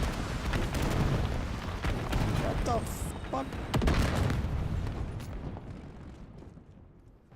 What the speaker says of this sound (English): A lot of explosions in this game.